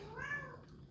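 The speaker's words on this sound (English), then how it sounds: "My cat, Mr. Hollywood, always got to know everything" A house cat gives a single drawn-out meow, close and clear, indoors, with a sharp brief noise cutting in at the very end.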